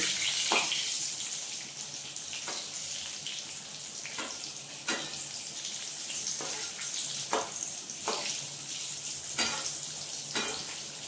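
Pointed gourd (potol) frying in hot oil, a steady bright sizzle broken by regular sharp scrapes of stirring roughly every second or two, with no voices.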